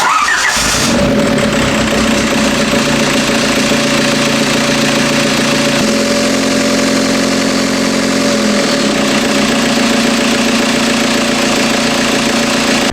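A diesel-swapped Toyota Tacoma engine cranks briefly, then catches and settles into a loud, steady running rumble with a shift in tone partway through, close and continuous.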